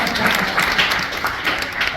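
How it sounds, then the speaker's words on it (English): Audience applause inside a cigar shop during a whiskey tasting evening, a steady dense clapping from a small crowd filling the full two seconds at close range. "So, round of applause for Jackie"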